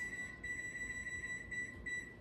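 A kitchen timer beeps in rapid, steady repeated pulses while chocolate chip cookies are baking, the thin electronic tone fairly faint over a constant low background rumble.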